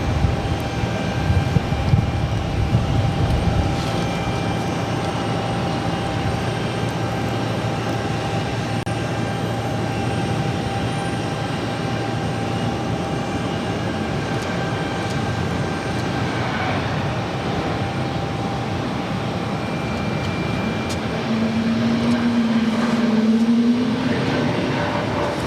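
A heavy jet airliner rolls for takeoff at Boston Logan, its broad, steady engine roar continuous and fairly loud throughout, with a rising tonal whine near the end.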